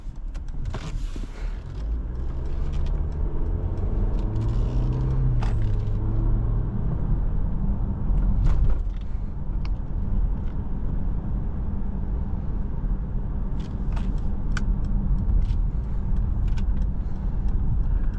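A 2023 Mercedes-Benz GLE 350 SUV cruising around the block, a steady low engine and road hum from inside the cabin with occasional faint creaks and clicks, no talking.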